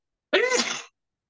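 A single short, sharp human sneeze bursts out close and loud, then gives way to silence.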